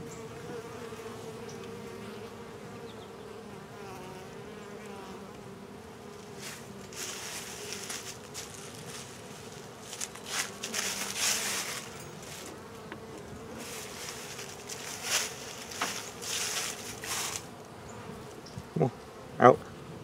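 Honeybees with a new Italian queen hum steadily around a hive, with occasional louder passes and some light handling noises nearby.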